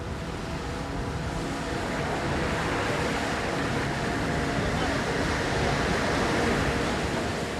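Strong ocean swell and surf near Friendship Island make rough going for a boat, heard as a continuous dense wash of roaring water and wind that stays loud and even throughout.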